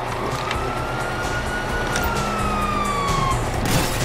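Police siren in Grand Theft Auto V, a clear wailing tone rising and falling over loud game traffic noise, present through the whole stretch and fairly close.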